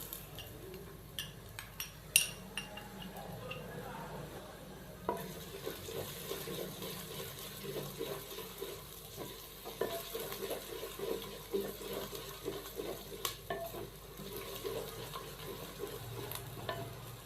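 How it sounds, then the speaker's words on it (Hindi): Ginger-garlic paste being stirred into light-browned onions in a pan for daal gosht, with soft sizzling and frying crackle, and intermittent scraping and clinks of the spoon against the pan, fairly quiet and close. "अदरक और लहसुन के पेस्ट को शामिल करने के बाद हमने इसको अच्छे से मिक्स कर दिया है।"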